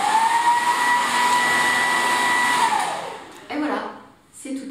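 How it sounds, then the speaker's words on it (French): A hair dryer blows with a steady high whine for about three seconds, then cuts off, followed by two short bursts of blowing. "Nous allons maintenant essayer de freiner la voiture à l'aide du sèche-cheveux."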